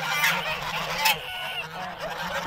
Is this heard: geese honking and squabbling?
yes